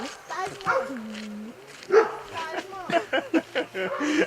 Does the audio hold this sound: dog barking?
yes